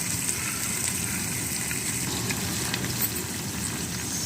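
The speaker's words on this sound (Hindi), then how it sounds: "अब हम इसमें ये अपने प्याज शामिल करेंगे। प्याज को हमने लंबा लंबा कटिंग करके तीखी कटिंग कर लिया था। अब इसे हम फ्राई करेंगे अच्छी तरह" Sliced onions, cut long and thin, frying in a kadai with a steady, close hiss of oil that stays continuous and even throughout, with no talking.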